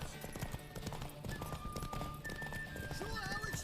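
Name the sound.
horse hooves in a video game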